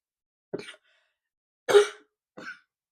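Three short, separate coughs close to the microphone, the middle one strongest, with silence between them.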